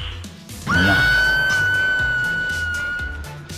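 A single loud, sustained scream from a victim in Dead by Daylight Mobile rises sharply and holds for several seconds during Ghostface gameplay, over a low rumbling game background.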